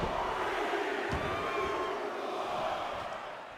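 Video game wrestling crowd in WWE 2K23, a dense steady roar of massed voices sustained throughout at a constant loud level, tapering slightly at the end.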